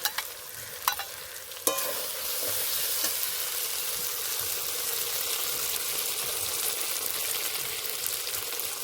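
Ginger, garlic, cumin paste and dried red chilli paste hit a hot pan with a few clinks, then a loud, close, steady sizzle and hiss continues for mutton ghugni.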